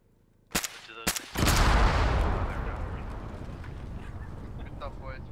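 Gunfire in the Arma 3 military simulation, set in Diyala Province: two sharp, loud shots, then a heavy blast-like burst that rumbles and slowly fades while firing continues faintly in the background.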